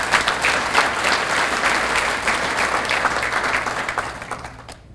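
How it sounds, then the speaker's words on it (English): Loud, full applause from an audience at a school district State of the District address, many hands clapping close and continuous before thinning out at the end. "You can applaud for that."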